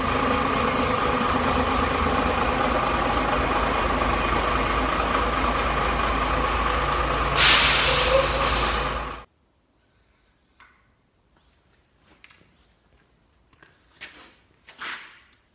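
A Foden Fleetmaster lorry engine runs steady and loud while backing up, a sustained idle-like drone that swells briefly before cutting off abruptly, leaving near silence with a few faint clicks and knocks.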